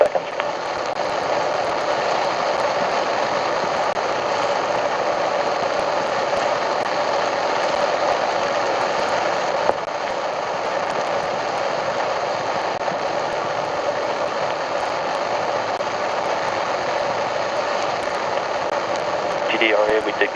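Artemis Moon Rocket engines roar during a hot fire test, a steady, dense broadband rumble that holds level for the whole stretch, with radio voices talking over it.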